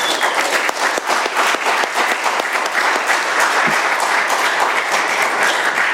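A roomful of people applauds at an AA meeting in Doylestown, PA, with dense, steady clapping that stays loud and even throughout, with no talking.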